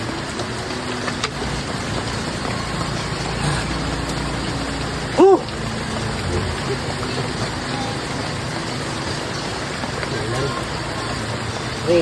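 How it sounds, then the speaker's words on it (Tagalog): Heavy rain on a mountain farm seen from a treehouse shelter, a steady dense hiss of downpour throughout, with a brief louder knock midway. "kagad naman ditong lumakas ang ulan"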